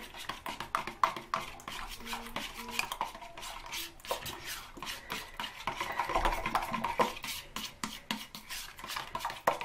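A yogurt and coconut oil hair mask mixed by hand in a bowl, rapid irregular clinking and scraping of a utensil against the container, close and fairly quiet.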